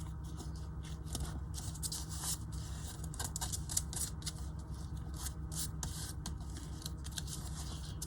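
Scissors snip and slide through a glued paper collage tag with ocean-themed scraps, a series of short, close crisp cuts and rustles spread across several seconds in a quiet room.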